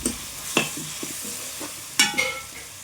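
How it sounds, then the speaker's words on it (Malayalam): Onions with ginger-garlic paste stirred in a frying pan for Kerala-style pork varattiyathu, a spoon scraping in a few distinct strokes over a soft, steady sizzle, close and alone. "ഇതെല്ലാം കൂടെ നന്നായിട്ടൊന്ന് മൂത്ത് വരുന്നത് വരെ ഇതുപോലെ ഒന്ന് ഇളക്കി കൊടുക്കുക"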